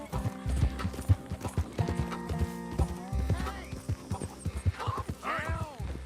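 A horse's hooves clip-clop steadily in Red Dead Redemption 2, a rhythmic walking pattern under a mix of game sound, a whinny and a player speaking over it.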